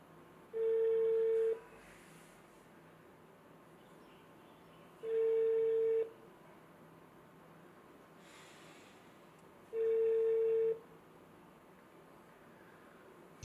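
Telephone ringback tones in three evenly spaced one-second beeps separated by several seconds of faint background hiss, thin and distant as if heard through a handset.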